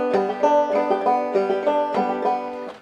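Banjo picked slowly, alternating between the first and second strings in a steady run of bright, twangy plucked notes, played alone and close.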